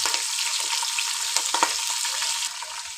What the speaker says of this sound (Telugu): ఆనియన్స్ ఇట్లా ఫ్రై అవుతున్నాయి కదా